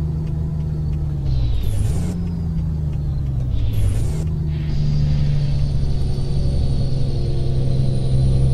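Truck engine in Euro Truck Simulator 2, a continuous low droning rumble with a steady tone on the road, two short hissing air-brake-like bursts early on, and no talk.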